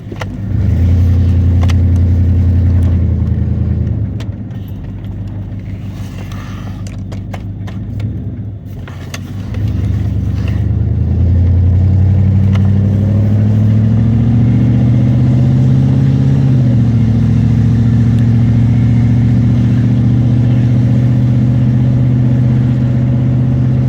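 A high-mileage OBS Ford pickup truck engine roars up through the revs, eases off briefly, then accelerates again on a straight stretch with a rising, loud mechanical drone close by.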